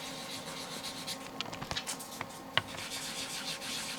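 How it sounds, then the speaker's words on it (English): Soft, steady rubbing of fine sandpaper on filled light-curing putty, a continuous gritty hiss with a few small taps and scrapes, close up. "all I have to do is do my fine sanding to smooth out the area."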